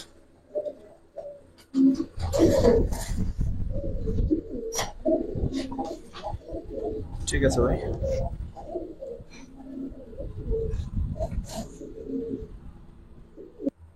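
Pigeons kept in a room give soft, repeated throaty coos, close by and intermittent, with someone talking briefly over them.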